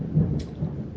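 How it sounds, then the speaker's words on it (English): A deep rumble of thunder rolls steadily for about a second, low and fairly loud, with a brief brighter crackle partway through and no voices over it. "Thunder!"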